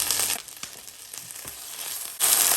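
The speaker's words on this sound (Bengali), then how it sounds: "সবগুলোকে আমি আবার একটু হালকা করে ভেজে নিচ্ছি।" Ginger and garlic paste frying in oil for an olive pickle, a loud, steady close sizzle with a few soft stirring knocks, swelling sharply again near the end.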